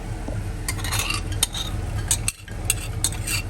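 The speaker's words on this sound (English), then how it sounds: "So let's pan fry some. Yeah. Some smoked lardons." Smoked bacon lardons frying in a pan, with a steady low sizzle under repeated scrapes and clinks of a utensil stirring them, close up and without speech.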